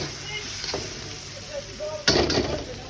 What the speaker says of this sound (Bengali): এভাবে ভর্তাটাকে সুন্দর মতো ভাজতে হবে পেঁয়াজটাকে